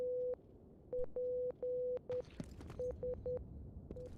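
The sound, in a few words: Morse code beeping in a video game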